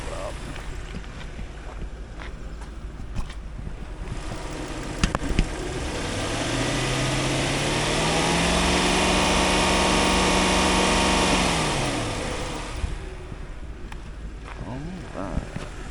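A 2004 Lexus LS430 engine runs while the car drives off and passes close, rising to a smooth, loud whoosh and rumble that then fades, with wind noise around it.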